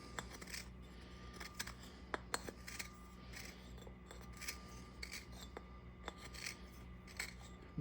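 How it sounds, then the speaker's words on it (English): A plumber's reamer deburrs the cut end of a pipe with faint, close scraping and rasping strokes, including a few sharper clicks, over a low steady background hum. "this is just a plumber's reamer"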